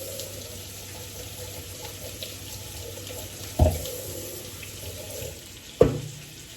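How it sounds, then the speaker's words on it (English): A kitchen tap runs at low volume while food is rinsed under it, a soft steady hiss of water broken by two brief clunks of items being handled in the sink. "I'm just giving these a little bit of a wash here"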